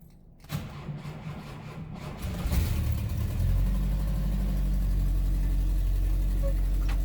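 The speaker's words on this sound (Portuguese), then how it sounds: "Vamos então ligar o carro, vocês vão escutar aí o barulho da bomba elétrica injetando" A Chevrolet Opala with Holley Sniper EFI electronic fuel injection starts up: a brief whir of the electric fuel pump and starter, then the engine catches and settles into a loud, steady low idle that continues to the end.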